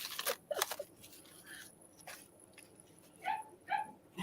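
Guard dogs at a door bark in a quick cluster of sharp, close barks, then break into whiny yips and whimpers. The calls come in short bursts with brief quiet gaps between them.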